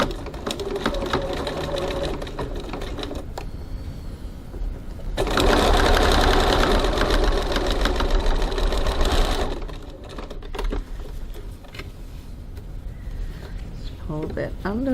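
A sewing machine stitches a crossbody bag seam at a 2.4 stitch length starting from a tapered edge, running in close, steady bursts with a louder stretch in the middle, while a person talks throughout.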